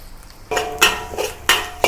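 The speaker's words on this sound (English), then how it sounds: "Saute until aromatic." Garlic, chilies and curry leaves sautéing over low heat in a pan, with a utensil scraping and clinking against the metal in several brief bursts over a steady soft sizzle; no one talks.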